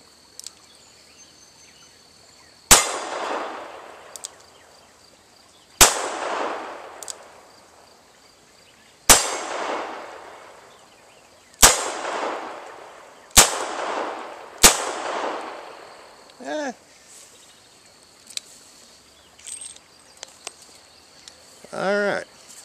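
Five loud, sharp shots from a Smith & Wesson Model 31-1 six-shot revolver, spaced a few seconds apart, each with a ringing decay, followed by metallic clicks and handling of the cylinder near the end.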